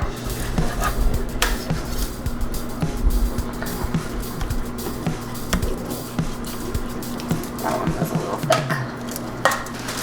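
A knife cuts roasted pork into thin eighth-inch slices on a board, with repeated soft chopping taps and scraping strokes over a constant low background hum.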